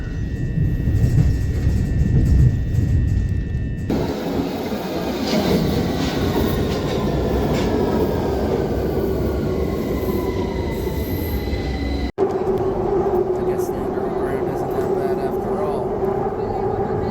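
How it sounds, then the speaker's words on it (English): A train travelling from Tottenham to Stansted Airport rumbles along steadily from inside, with wheel squeal and rising and falling tones as it runs, the sound cutting abruptly between sections of continuous travel. "Train from Tottenham to Stansted Airport."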